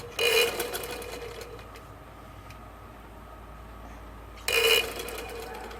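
A sewing machine stitches a tarizon-style kurta in two short loud whirring bursts, at the start and near the end, with a quieter mechanical hum between them.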